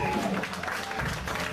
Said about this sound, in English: put your hands together and give my wife, your friend, your sister, a round of applause